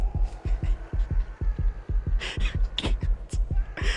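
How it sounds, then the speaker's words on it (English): Out-of-breath gasping and a throbbing heartbeat in a fighting video game: regular deep heartbeat thumps pulse under heavy, rasping breaths, joined by sharper game sounds partway through. "out of breath breathing and a heartbeat too"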